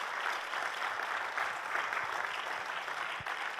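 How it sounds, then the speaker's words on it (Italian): Steady applause from a business meeting audience of young entrepreneurs in Cortina d'Ampezzo, an even, moderately distant wash of many clapping hands sustained throughout. "vorrei fare un applauso."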